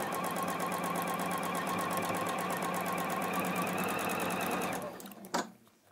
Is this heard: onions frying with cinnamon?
no